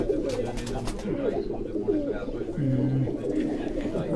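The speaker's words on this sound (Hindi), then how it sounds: "ये मोती वाले कबूतर है उस्ताद सदीक के, वो जा रहे पीछे" Ustad Sadiq's pearl-marked pigeons in Quetta coo in low, repeated throaty calls close by, while someone talks over them throughout.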